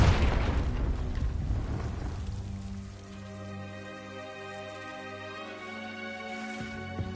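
A Confringo blasting spell in Hogwarts Legacy goes off as one loud, booming explosion at the start. A long rumbling tail fades into a low sustained tone.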